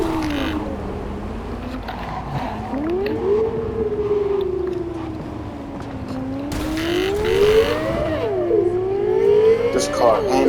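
A car in Cyberpunk 2077 revs and whines through shifting engine pitch with tire squeal and a siren-like sweep, fairly loud and continuous, while a person talks over it.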